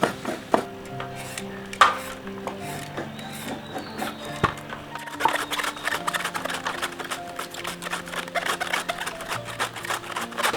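Knife taps on a cutting board as vegetable scraps are cut into small pieces during large-batch home cooking, a steady run of light chops under a continuous layer of tonal background music.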